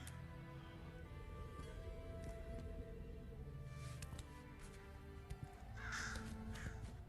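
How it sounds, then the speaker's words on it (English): Crows cawing in an Unreal Engine 5 game demo, several harsh caws sounding over a steady ambient bed, with a louder burst of calls near the end. "Them crows look real."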